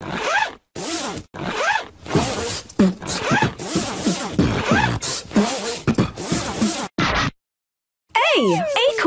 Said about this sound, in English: Z, zipper.